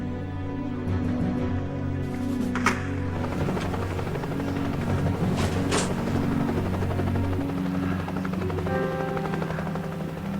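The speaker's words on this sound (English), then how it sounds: "the sound of the helicopter" A helicopter drones steadily nearby, its rotor hum and engine whine holding a constant loud level throughout with no voices.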